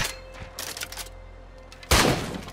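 Gunshots aimed at zombies in State of Decay 2 on Xbox One: a few sharp, close reports early on, then a loud burst of fire near the end, with quieter game sounds between.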